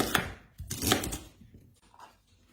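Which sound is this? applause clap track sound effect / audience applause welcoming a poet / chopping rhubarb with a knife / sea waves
chopping rhubarb with a knife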